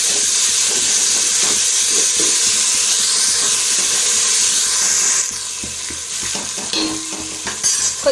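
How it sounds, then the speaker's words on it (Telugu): About two spoons of ginger-garlic paste sizzle and hiss steadily in a hot pan, loud and close, with scraping stirring strokes that ease slightly toward the end. "పచ్చివాసన పోయే వరకు ఫ్రై చేసుకుందాం అల్లం పేస్ట్."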